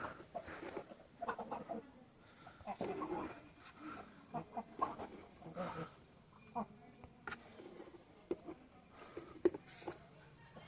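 Bhimavaram breed chickens on a farm clucking softly in scattered bursts nearby, with a person talking over them throughout.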